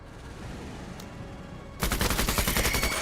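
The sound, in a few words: gunfire from units shooting in the video game Menace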